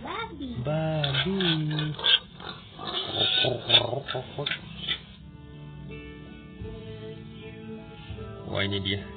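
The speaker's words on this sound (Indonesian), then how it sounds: "Babi." Pigs oink and grunt in a short burst of close calls, with people talking over and around them outdoors near a road.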